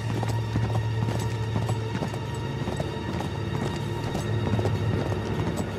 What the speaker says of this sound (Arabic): ايه حصان حصان